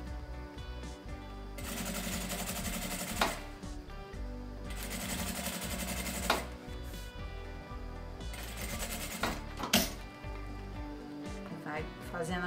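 Sewing machine stitching a toothbrush and oral hygiene kit bag, running in three or four sustained bursts with brief pauses between, steady mechanical whir up close; no talking.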